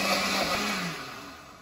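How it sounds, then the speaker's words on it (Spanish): A blender grinds red chile for enchiladas, a close, loud motor whir with a falling pitch that tapers off as the motor winds down. "porque hace mucho ruido la licuadora."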